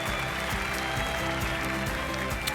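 Audience applause and cheering fill a TV singing competition studio after a dance-pop performance, a dense continuous wash of clapping with music or crowd noise underneath, steady and loud throughout.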